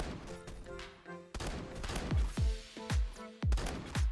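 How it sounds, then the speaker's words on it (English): Repeated shotgun blasts in the first-person shooter Phantom Forces, about seven heavy booming shots at irregular intervals, each followed by a short ringing tail, with game effects between them. "Alright, we're switching to another shotgun."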